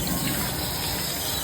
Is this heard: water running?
yes